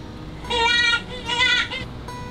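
Jackrabbit sound played at an animal exhibit in a children's museum, two loud squealing, bleat-like bursts with harmonic tones, each about half a second long, over a background of room noise.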